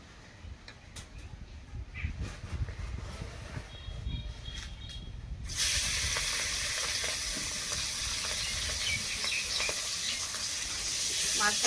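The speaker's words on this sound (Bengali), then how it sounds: "মাছটাকে ভালো করে নেড়ে চেড়ে দিচ্ছি" Fish drops into hot, smoking oil in a pan during village cooking; quiet handling and scrapes give way to a sudden loud, sustained hissing sizzle that carries on close up.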